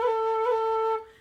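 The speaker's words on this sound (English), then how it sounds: "another favorite method of mine is called cutting" A single held note on a low whistle with a quick cutting ornament, a brief upper-pitch flick near the middle, before the tone fades out; solo and clear.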